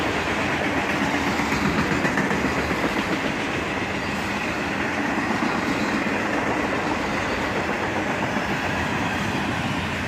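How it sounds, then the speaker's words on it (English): A long BNSF, Union Pacific or CSX freight train rolls past at dusk, its mostly loaded boxcars producing a steady, loud rumble with a continuous clickety-clack of wheels on rail joints, unbroken throughout. "This train was mostly loaded with a few empties."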